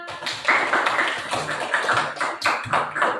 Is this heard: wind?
no